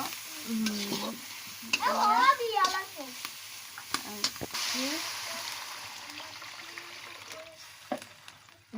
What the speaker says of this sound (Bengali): এখন ঝোলের পানি দেব।